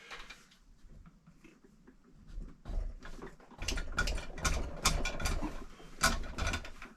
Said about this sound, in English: Run a patch through with the jig.